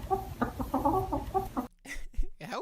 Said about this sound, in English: now that I'm listening to all the chicken talk together, it is like the same melody line